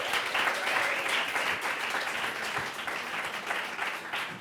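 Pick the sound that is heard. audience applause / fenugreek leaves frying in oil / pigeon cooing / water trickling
audience applause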